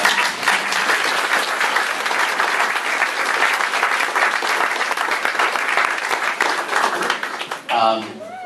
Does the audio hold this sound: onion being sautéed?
no